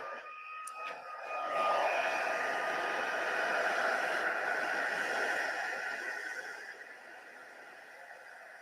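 A heat tool blows steadily over splattered craft card, a broad airy whoosh that rises after a brief click, holds at an even level for several seconds, then eases off slightly near the end, with no talk.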